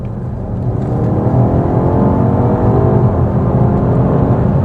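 A BMW X5M Competition accelerates hard in 4th gear, and the engine roar builds quickly after a softer start. It then holds as a loud, dense, rising drone throughout.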